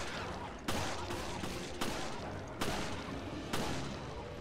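Continuous gunfire in Resident Evil Revelations, a dense steady rattle of shots with sharper bursts at regular intervals, loud and unbroken throughout.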